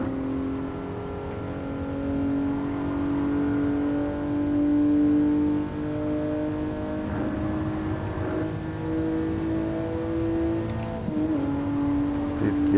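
A 1967 Toyota 2000GT in Gran Turismo Sport, engine droning steadily and pulling higher as it accelerates in fifth gear toward high speed, heard from the cabin with a brief dip at a shift, under a faint voice.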